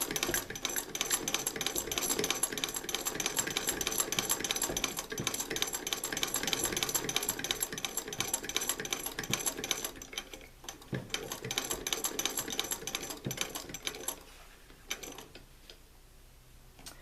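An antique sewing machine close to 100 years old stitches fabric for a throw pillow with a steady whirring, clattering mechanical rhythm that slows and tapers off near the end.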